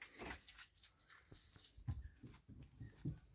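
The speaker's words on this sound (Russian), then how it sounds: "щенки пищат" Soft, high-pitched puppy whimpers come in short bursts, mixed with shuffling and low rustling noises close by.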